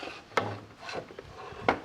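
A wooden board scrapes and knocks into a manual pocket hole jig, with two sharp wooden clacks around a softer rubbing slide, close and quiet in a workshop.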